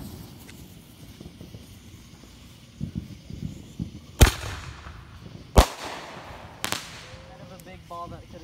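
July 4th fireworks go off outdoors, with three sharp loud bangs and a trailing crackle over murmuring voices and background noise.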